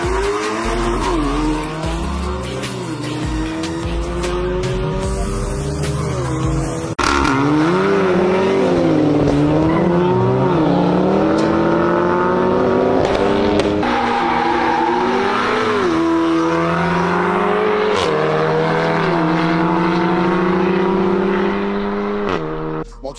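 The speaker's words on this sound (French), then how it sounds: "moi je t'ai vu accélérer, ça envoie des flammes, ça pop, ça envoie comme il faut" A tuned stage 2 VW Golf MK7.5 R with an IS38 turbo revs hard and accelerates loudly, engine pitch rising and falling across gear changes with popping crackles; a voice speaks briefly.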